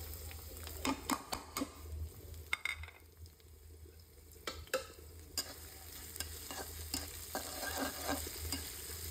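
Onions frying in oil in a pot for beef trotter nihari, with a steady soft sizzle under repeated stirring scrapes and clinks close at hand.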